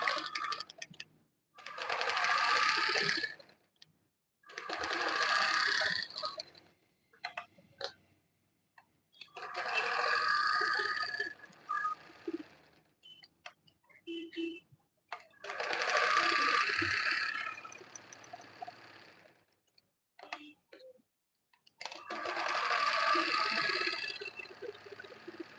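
A sewing machine stitches around the edge of a satin bag with scuba fabric, running in five separate bursts of a few seconds each, broken by short pauses and light handling noises.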